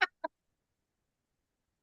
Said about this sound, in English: He looked at me and said, chirp.